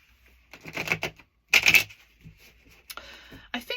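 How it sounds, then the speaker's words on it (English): A deck of cards being reshuffled in a quiet room: two short bursts of crisp riffling flutter, then softer card handling with faint voice sounds. "Let me put these cards back into the deck and reshuffle."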